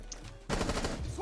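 Rapid automatic gunfire erupts midway through a Rainbow Six Siege round, a dense rattling burst of shots close by and loud, following a quieter stretch of background game noise.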